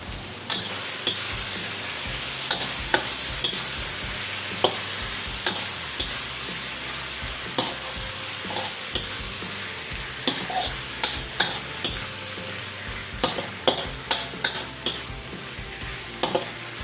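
Bitter gourd and string beans stir-fry in a pan, with a continuous sizzle broken by frequent sharp scraping clicks of a utensil stirring the vegetables, no talking.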